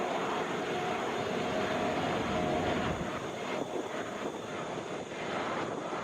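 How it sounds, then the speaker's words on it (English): A Boeing 717 airliner's jet engines roar at Atlanta airport, a broad, steady, moderately distant rush of jet noise with no talk. "This is our Boeing 717 headed to Lexington."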